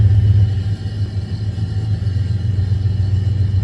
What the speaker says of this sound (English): we're driving the Cadillac for the first time on its maiden voyage around the block